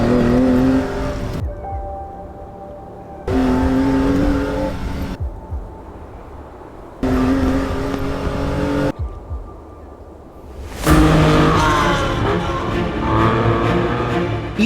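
A Lancia Stratos rally car engine revs in several loud bursts, separated by abrupt quiet gaps, and ends in a harder, rising acceleration.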